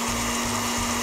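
A kitchen blender runs on a comedy show stage, a steady loud motor hum with pulsing low-end surges, alone without talk for about a second.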